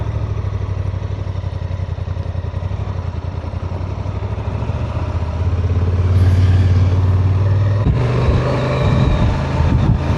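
A 2025 Honda Transalp motorcycle riding along UK country lanes, its engine droning steadily from close by and rising in volume partway through, with some wind and rattle and no talking.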